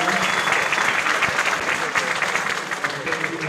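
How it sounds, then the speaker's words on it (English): A crowd claps steadily in a warm round of applause, dense and continuous, tapering slightly toward the end. "give a big recognition round of applause"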